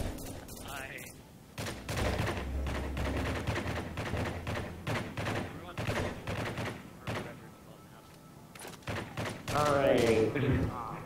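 Gunfire from Call of Duty Modern Warfare 3 on the Terminal map: repeated sharp shots and bursts across the clip, with thuds mixed in, under and between a player's talk.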